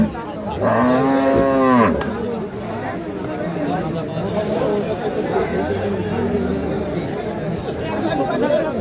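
A Holstein Friesian dairy cow at a busy cattle market lets out one loud, close moo near the start, then the crowd's chatter and bargaining voices carry on around it.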